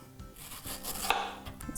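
A knife cuts a mango into cubes on a kitchen board for a mango salsa, giving soft, repeated slicing and scraping strokes, close and fairly quiet, with no talking.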